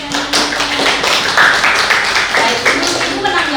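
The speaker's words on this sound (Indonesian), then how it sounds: "Tepuk tangan dulu untuk pertanyaan." Students in a classroom applaud a question with a short burst of steady, dense clapping, while people talk over it.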